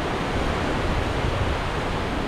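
Kundamala waterfall on the Indrayani river near Talegaon roars as a dense, loud, continuous wash of falling water, close and unbroken, with no voices.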